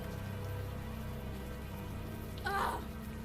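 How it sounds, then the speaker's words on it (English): Steady warm rain pours down in the video game Unavowed, a soft continuous hiss of drops throughout, joined near the end by a brief brighter swell. "the warm rain is coming down"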